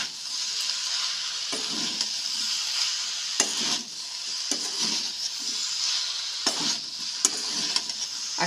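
Chilies are stir-fried in a pan for a vegetarian fig curry, with a steady sizzle broken by repeated scraping and clinking strokes of a spatula.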